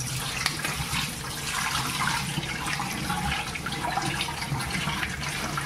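Water runs steadily from a tap while dried bitter gourd, soaked half an hour in hot water, is rubbed and washed under the stream, a close continuous splashing with no talk.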